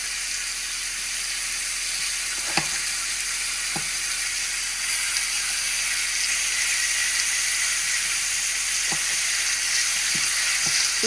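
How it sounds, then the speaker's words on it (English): Butter sizzles in a hot pan for steaks, a steady loud hiss and crackle that continues throughout, broken by a few sharp clicks and taps. "what we're gonna do now is take butter. I'm gonna just drop it in there."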